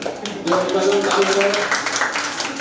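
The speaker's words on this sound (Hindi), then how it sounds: "ताली का भी तेज बजाया करो" Students in a commerce classroom clap together, a steady patter of hands that starts after a brief pause and carries on under a teacher's voice.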